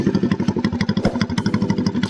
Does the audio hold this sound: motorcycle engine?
yes